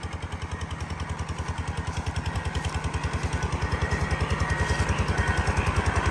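Water well drilling machine running in a garden, a steady, rapidly pulsing mechanical thump with a loud engine drone that gradually grows louder, heard alone and close.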